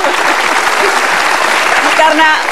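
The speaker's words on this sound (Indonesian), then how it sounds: "kita kasih tepuk tangan dong untuk keduanya" Studio audience at a televised political debate gives loud, continuous applause for both guests, a thick, even roar of clapping with a voice briefly audible toward the end.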